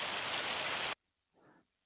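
Hail pours down in Farming Simulator 25 as a dense, loud hiss of pelting ice that cuts off abruptly, followed by a short faint burst of softer noise, no talking.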